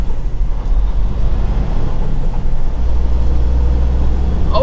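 A gigantic truck rolls through a tiny little town with a loud, steady low rumble of engine and road noise heard from close by, with no talk.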